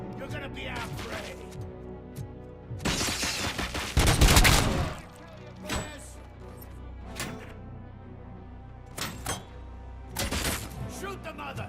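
Gunfire in RoboCop: Rogue City on PC, with bursts of shots and a loud crashing volley midway, spread across a busy game soundtrack, with voices talking over parts of it.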